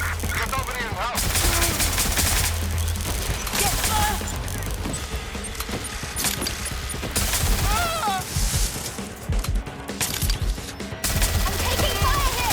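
Gunfire in the video game Watch Dogs: Legion, rapid overlapping automatic bursts and scattered shots throughout, loud and continuous over a busy backdrop of game effects and shouted voices.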